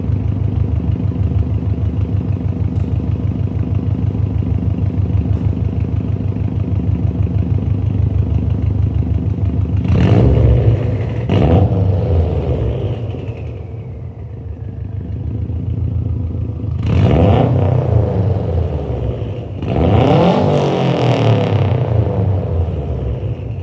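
Subaru WRX STI fitted with an R400 exhaust, heard idling with a steady low rumble before several loud, sharp revs around the middle and end, each rising and falling quickly, close to the car.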